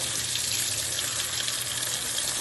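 A washing machine fills with water for a heavily soiled wash cycle, a steady, loud rushing gush of running water that continues unbroken throughout, with no voices.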